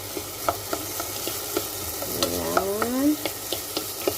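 Potatoes frying with minced meat in a pan are stirred, giving a soft steady sizzle broken by light scraping strokes, while a person speaks a word briefly.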